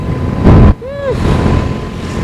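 Wind gusting across the microphone on a tree-lined rural road in Kendal, Central Java, a steady low rumble broken by a brief loud buffet and a passing engine whine.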